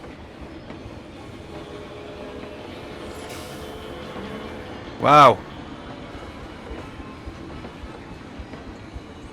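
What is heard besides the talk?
coaster train running on track in Planet Coaster video game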